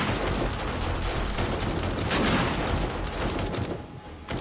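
SMG fire during a horde night in 7 Days to Die: loud, continuous bursts of rapid shots, crowded and unbroken, with the clatter thinning slightly near the end.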